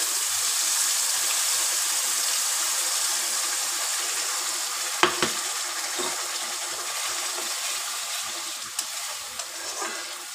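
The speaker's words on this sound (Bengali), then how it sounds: "এবার আমি এতে মিক্সিতে যে পেস্ট করলাম মশলাটা, সেই মশলাটা দিয়ে দেবো।" Ground spice paste frying in hot oil with whole garam masala for shahi matar paneer, a steady close sizzle with a few sharp clinks of a utensil against the pan.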